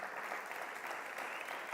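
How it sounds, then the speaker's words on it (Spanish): A church congregation at a Sunday service applauds, a steady wash of many hands clapping evenly, fairly soft and with no voices over it. "Le damos un aplauso fuerte a Jesús."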